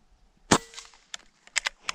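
.22 airgun shot fired at a ground squirrel outdoors, one sharp crack followed by a few lighter snapping clicks, close and brief against near silence.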